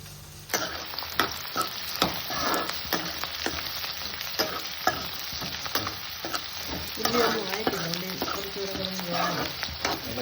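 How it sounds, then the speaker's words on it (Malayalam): Onions sizzle steadily in a hot pan while a utensil repeatedly stirs and taps against the metal, close and continuous. "ഉള്ളി ഒന്ന് നല്ലതായിട്ടൊന്ന് ഫ്രൈ ആയി വരണം"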